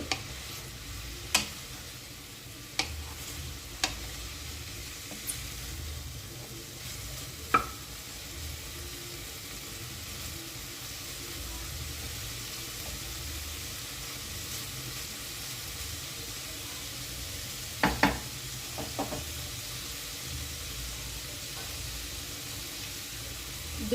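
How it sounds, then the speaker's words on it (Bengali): Snake gourd (chichinga) frying in an uncovered pan, with a steady broad sizzle throughout and a few sharp utensil clicks and scrapes spaced out over it, close and with no talking. "খুব ভালোভাবে চিচিংয়েটা রান্না হচ্ছে।"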